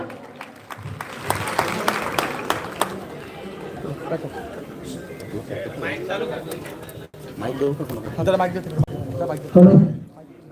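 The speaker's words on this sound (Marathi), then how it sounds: "जरा जोरदार टाळ्या" Audience at a live political and cultural event clapping, a scattered burst of applause under crowd chatter and an announcer's voice, with a louder swell near the end.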